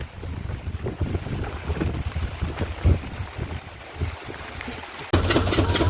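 Strong wind buffets the microphone in gusty, rumbling bursts, growing louder and harsher near the end.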